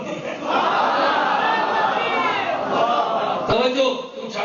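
A large crowd at a religious gathering in Jhang chants slogans in unison, a loud, sustained roar of many voices that swells and holds steady, then breaks off sharply near the end.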